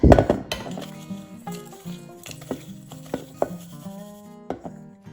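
A spice rub for ribs is mixed in a bowl, with a spoon scraping and clinking in uneven strokes, a few sharp knocks against the rim, close and without talk.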